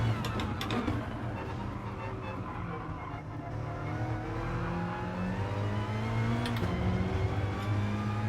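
Gr.4 race cars lap the track in the video game Gran Turismo Sport, giving a continuous loud engine drone with rising and falling pitch as several cars run close together, and no voices.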